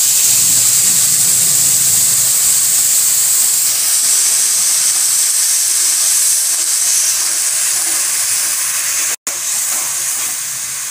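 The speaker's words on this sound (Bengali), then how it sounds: "গোটা গরম মশলা, তেজপাতা ফোড়ন দেওয়ার পর এইবার আমি এই পেস্টটা দিয়ে দিলাম।" Spice paste hits hot oil holding whole garam masala and bay leaf, producing a loud, sustained sizzling hiss close by, with one brief dropout near the end.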